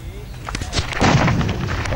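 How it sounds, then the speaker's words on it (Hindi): Gunfire and homemade bombs thrown at police during a village clash in Birbhum, West Bengal: loud booming blasts and cracks pile into a dense, rumbling roar with distant crowd noise behind. "फायर किया जा रहा है पुलिस के ऊपर, हाथ से लोकल मेड बम फेंके जा रहे हैं।"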